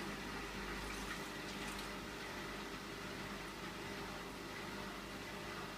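A Hotpoint washing machine drains water before its spin cycle, giving a steady, continuous rushing and pumping hum that stays even and close throughout, with no voices.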